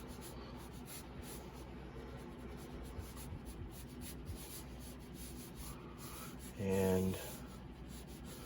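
Pencil sketching a fox on paper, a steady soft scratching and rubbing of graphite close by, with a brief louder stroke near the end and a single spoken word.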